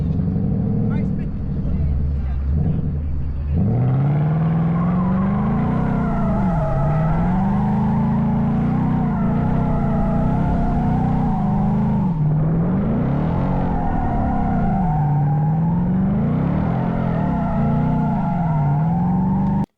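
A Ford Mustang GT spins donuts, its engine droning steadily while the tires squeal and skid in long rising and falling waves, loud and close throughout for nearly twenty seconds.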